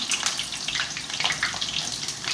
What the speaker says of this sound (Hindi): सारे करेले को मैं डाल दी हूँ। अब इसको फ्राई करना है।